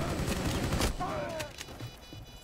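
Shotgun blasts in Rainbow Six Siege, several loud, sharp reports in quick succession near the start, with in-game radio chatter and voices mixed in underneath.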